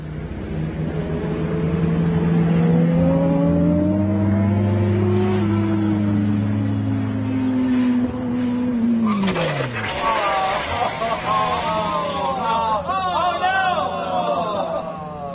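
A motorcycle revs up loudly in front of an audience, its engine pitch rising and falling, then a crash with scraping and crowd noise close by, while someone talks over it.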